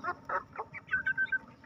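Three-month-old Bangkok chickens cluck in a short run of soft, close calls, several quick notes with a few brief higher-pitched chirps at the end.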